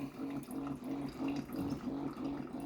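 A capsule coffee machine brews into a cup: a faint, steady trickle of liquid with a gentle pulsing hum that repeats at even intervals.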